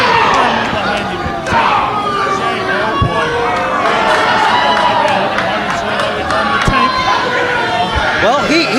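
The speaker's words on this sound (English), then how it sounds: "Listen to that crowd." A wrestling crowd roars and cheers continuously at an event, a dense wash of voices punctuated by sharp thuds and slams, with commentary voices woven into the noise.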